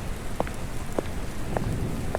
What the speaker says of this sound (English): The distant sound of rain against the windows adds to the eerie atmosphere